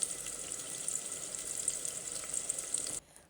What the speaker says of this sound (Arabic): نقلي بصلتين في الزيت